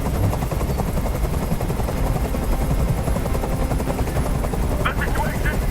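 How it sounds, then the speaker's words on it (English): Helicopter from Detroit: Become Human hovering overhead in a steady, loud, continuous rotor thrum that fills the scene, with faint talk and clattering underneath. "Tell that helicopter to get out of here."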